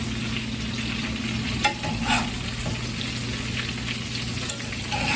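Catfish bites pan-frying in a hot pan after being turned, a steady dense sizzle and crackle throughout with a few brief clinks, no talking.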